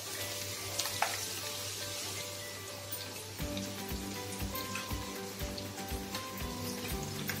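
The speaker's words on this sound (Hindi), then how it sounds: "तेल भी हमारा गर्म हो चुका है, इसमें हम पहले प्याज डालेंगे" Onions frying in hot refined oil in a kadhai, a steady crackling sizzle like light rain that thickens into busier spattering with rhythmic stirring knocks in the second half.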